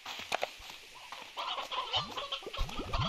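Chickens cluck in the video game Slime Rancher 2, a burst of short, rising clucks and squawks that cluster toward the end, close and fairly loud, with no voices.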